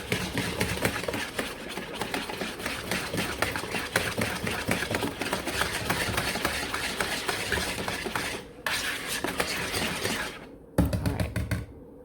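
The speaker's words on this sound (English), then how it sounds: "The whisk to help me out a little bit." An electric whisk whirs continuously while mixing banana pudding custard, a steady mid-pitched motor buzz with rattling in the bowl that cuts out briefly twice near the end.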